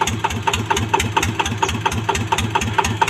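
A 150cc motorcycle engine being run in runs close and loud in a fast, even pulsing rhythm, a steady mechanical chug with regular knocking beats throughout.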